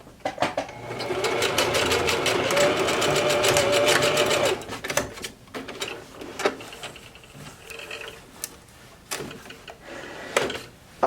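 Sewing machine zigzag-stitching an elastic waistband on a gathered skirt: a fast, rattling run of needle strokes for a few seconds, then short bursts and stops with clicks and fabric handling.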